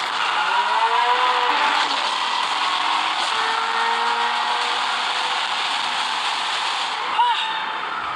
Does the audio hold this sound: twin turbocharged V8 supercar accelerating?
yes